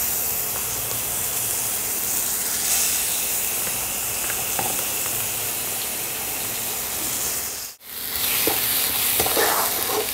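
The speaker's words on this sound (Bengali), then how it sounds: "পেঁয়াজ, আদা, রসুন কষানো হয়ে গেছে" Onion, ginger and garlic paste frying in a pan, a loud continuous sizzle and hiss with occasional stirring, broken by a brief dip near the end.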